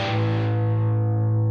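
Electric guitar played hard through an amplifier, breaking up into overdriven distortion with no pedal, as one loud struck chord that rings on steadily and slowly loses its upper edge.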